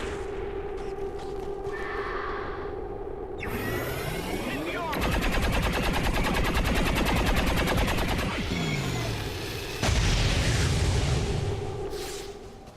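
Overwatch reaction shots ring out in the XCOM 2 video game as loud bursts of rapid gunfire. A dense, rattling volley runs through the middle of the clip, with booms and sharp shot effects around it.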